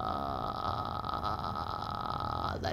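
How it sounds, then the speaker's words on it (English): A singing teacher demonstrates vocal fry, a steady low creaky rattle held close and fairly loud for nearly three seconds, ending with a brief breathy shift. "You're just going to do a vocal fry, and this is what it sounds like."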